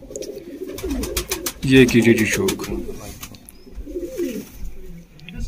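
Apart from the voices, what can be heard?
pigeon of Kamangar bloodline cooing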